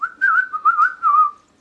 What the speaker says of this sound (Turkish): Islıkla, ıslıkla.